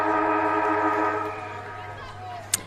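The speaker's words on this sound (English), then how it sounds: "the players getting a bit tired there, Heidi, just before the siren went." A quarter-time siren wails at a women's Australian football match, a loud sustained tone that holds and slowly fades over crowd ambience, ending with a sharp brief click.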